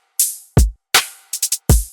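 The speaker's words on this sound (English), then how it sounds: "The drums by themselves, they sound like this" A drum loop at 160 BPM lays deep booming kick drum hits between crisp snare-like cracks and a quick double tap, dry and punchy over two seconds with no voice.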